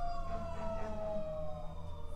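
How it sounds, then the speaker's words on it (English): Emergency vehicle sirens passing in the street outside a window: a faint, wavering wail heard from indoors over a low rumbling hum of traffic. "I don't know if you can hear the sirens."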